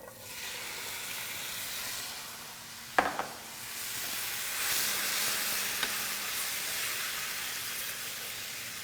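Black beans with chili powder and cumin sizzle steadily in a hot pan, a soft continuous hiss with a brief clatter of stirring partway through.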